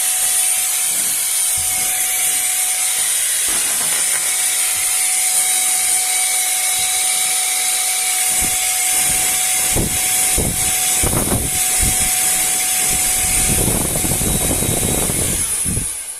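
A Zola wireless air duster blows air steadily through its nozzle, a loud continuous high-pitched whine with a hissing rush that holds for the whole stretch, with a few thumps from handling in the second half.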